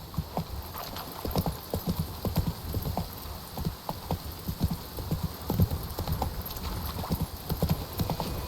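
Clip-clop of the horse Roach's hooves at a brisk, irregular pace, close and prominent from start to finish, with no voices heard.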